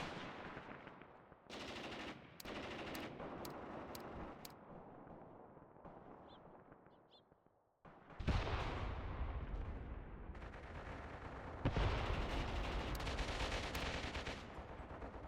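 Machine gun fire in the World War II game Mius Front, sustained rattling bursts and distant booms forming a dense, continuous battle roar, loud and unbroken with no talk.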